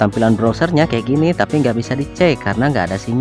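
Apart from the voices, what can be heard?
No distinct noise like a dog, phone or traffic.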